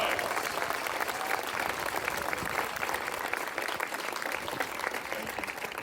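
An audience at a talk event applauds the speakers with steady, dense clapping that fills the whole stretch evenly at moderate loudness, with no distinct cheers standing out.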